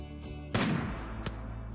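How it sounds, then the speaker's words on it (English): A single sharp gunshot from a character firing at a Thrombo in Rimworld cracks out loudly over a low game hum, followed by a fainter second shot. "So I'm going to have her shoot the Thrombo."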